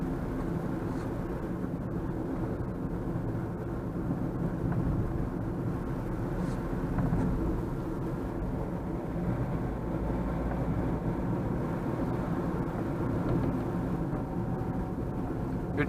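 A Hyundai Grand i10 three-cylinder diesel drones steadily from inside the cabin while driving, a continuous low engine rumble with road noise and no talking.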